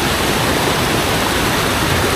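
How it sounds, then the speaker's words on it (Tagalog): Strong flood-swollen river water rushes down over stones at a Taiwan river control structure, a loud, dense, unbroken roar of white-noise torrent filling the whole clip with no voices. "Tignan ninyo sa lakas ng tubig na bumababa dito yung mga bato."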